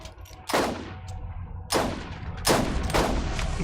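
Gunfire in the co-op shooter game Borderlands: four loud, sharp shots or short bursts spaced irregularly, each ringing out with a decaying tail over continuous game ambience, no talking.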